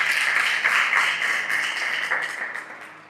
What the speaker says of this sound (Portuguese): Você pode dar mais uma salva de palmas?